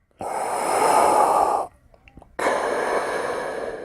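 A voice imitates Darth Vader's mechanical breathing during a fight, with a long loud raspy inhale, a brief near-silent pause, then a second harsh breath, close and alone.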